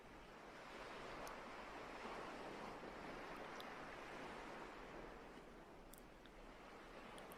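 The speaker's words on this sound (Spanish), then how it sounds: "mientras te dejas cautivar por el ritmo relajante de las olas." Ocean waves wash steadily onto the shore in a soft, continuous broadband rush that swells gently and eases, faint and distant, with no voices.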